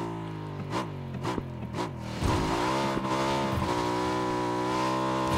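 A motorcycle engine in PUBG revs up and down in a few quick throttle blips, then settles into a steady, droning ride at speed, close and fairly loud.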